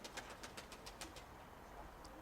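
Soft pigeon cooing sounds in a quick series of faint pulses, somewhat distant, over a quiet outdoor background.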